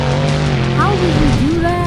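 A monster truck engine roars under heavy throttle in an arena, loud and sustained, with a rising whine and excited commentary over it.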